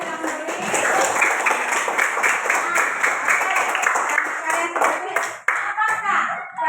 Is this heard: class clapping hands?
yes